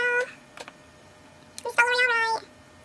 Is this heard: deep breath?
no